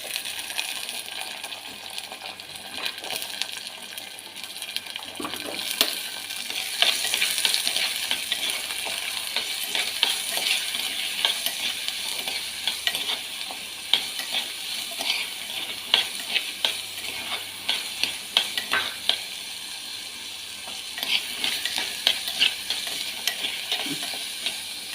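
Shallots sizzle in a hot pan while a spoon stirs them, with frequent scraping and clinking strokes against the metal over a steady frying hiss, close and fairly loud, no speech.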